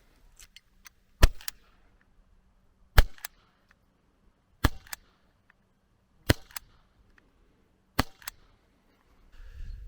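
A Gamo PT-80 Desert air pistol firing Gamo Match Classic pellets: five sharp, crisp cracks at even intervals of a second and a half or so, with near silence in between, close and with no talking.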